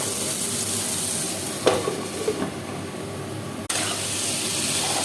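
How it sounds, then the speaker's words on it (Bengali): Long strips of potato frying in hot oil in a home kitchen, a steady close sizzle and hiss with a couple of brief stirring scrapes and a sharp clatter partway through. "আর এই আলুটাকেও লম্বা লম্বা করে কাটছি, আলুটা ভেজে নিই।"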